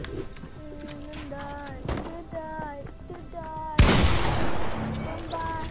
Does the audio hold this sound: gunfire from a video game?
yes